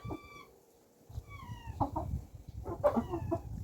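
Young autumn chickens cluck and chirp close by in short scattered calls, some high peeping notes, with a quiet stretch in between.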